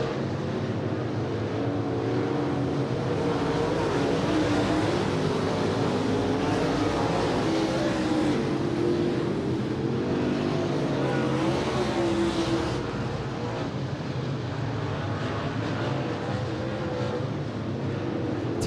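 Race cars roar around the Willamette Speedway oval during a fan appreciation night, a dense, continuous wall of engine noise from several cars passing through turns 3 and 4, loud and steady throughout.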